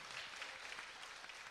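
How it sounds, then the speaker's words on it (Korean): Congregation applauding in a church service, a steady patter of clapping at a moderate, somewhat distant level without voices. "우리 박수 한번 해주세요."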